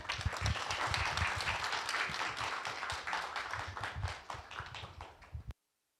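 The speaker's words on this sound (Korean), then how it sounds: "박수로 환영해 주십시오." Audience applause welcoming a speaker at a residents' public hearing, a sustained, even patter of many hands from a crowd at moderate distance, continuing for several seconds before cutting off abruptly.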